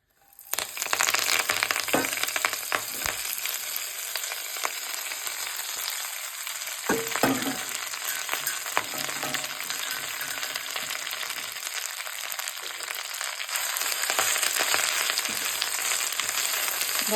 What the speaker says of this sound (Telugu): బాండ్లీ పెట్టుకొని నూనె వేసుకొని ఫస్ట్ దీన్ని వేయించేసేయాలి.